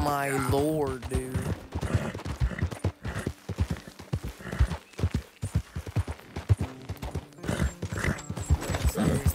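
Hooves clip-clop in a quick, uneven rhythm close by, opening with a horse's whinny, in the video game Red Dead Redemption 2.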